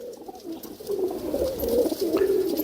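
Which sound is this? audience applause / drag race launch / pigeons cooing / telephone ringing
pigeons cooing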